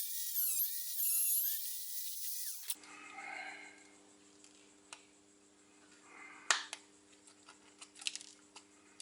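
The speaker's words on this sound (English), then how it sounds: "I'll cut up like 3 or 4 mil, cut that section out" A small high-pitched rotary tool cuts a section out of a plasma rifle prop, whining loudly for about three seconds before stopping, followed by a steady low hum and scattered light clicks and taps.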